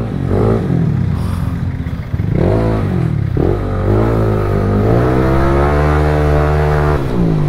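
A motorcycle engine close by is revved hard again and again, each rise in pitch cutting off and climbing again. It ends in a sustained, loud high-revving blare.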